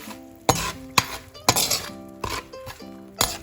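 A spoon scrapes and clinks sharply against a pan, about seven distinct knocks in an uneven rhythm, while spice powders are stirred into a little hot oil for lemon pickle.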